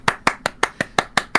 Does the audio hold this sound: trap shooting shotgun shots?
no